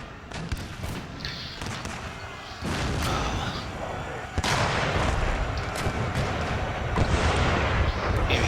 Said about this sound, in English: Retarget the artillery onto these guys.